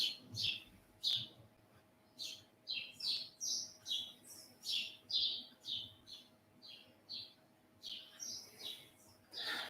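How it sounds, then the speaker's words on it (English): Birds chirp and tweet in repeated short bursts, fairly close, over a quiet background with a faint steady hum. "hear the birds."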